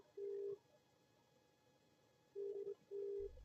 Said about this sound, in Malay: Apa sebab kuat sangat ni bunyi telefon ni?